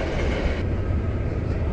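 A long US freight train hauled by multiple locomotives rolls steadily past, a continuous loud low rumble of wagons and rail noise with no pauses throughout.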